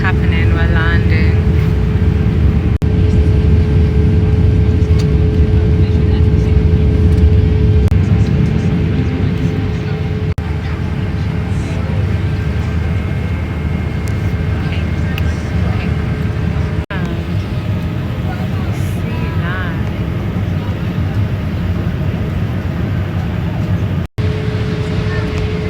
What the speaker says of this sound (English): It's happening, we're landing.